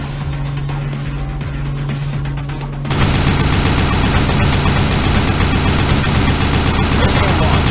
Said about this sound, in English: Accelerate the machine gun.